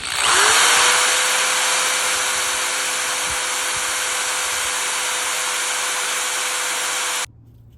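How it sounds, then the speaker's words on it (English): A power drill bores holes in a plastic bottle for a homemade bird feeder. The high whirring is loud and steady for about seven seconds, then cuts off abruptly, with no talking. "Okay, it's time to drill holes now."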